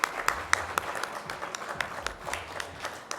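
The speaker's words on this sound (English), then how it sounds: "definitely a round of applause for Kalu Chauhan." A small audience at a staff award event gives scattered, uneven claps for an absent winner, with individual hand claps standing out clearly over a light room murmur for about three seconds.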